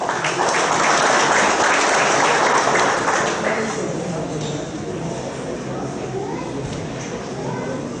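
Dense audience applause fills a council chamber during a ceremony honoring military police officers, loud and steady before easing slightly toward the end, with children's voices faintly mixed into the crowd noise.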